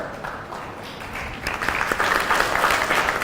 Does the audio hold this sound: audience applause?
yes